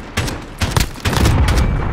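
Repeated loud bursts of gunfire in a video game gunfight, sharp cracks clustered in several volleys across the short stretch with sustained rattling near the end.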